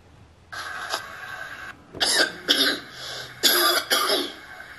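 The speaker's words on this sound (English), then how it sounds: "Me coughing." A series of harsh coughs and throat-clearing sounds, close and fairly loud, in irregular bursts over faint background hiss.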